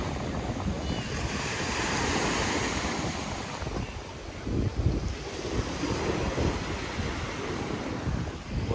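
Steady wind rushes across the microphone over the broad wash of Black Sea surf at Sochi, with no voices.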